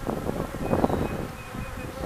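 Honey bees buzzing close by at an opened hive being split, a dense steady hum with no voices.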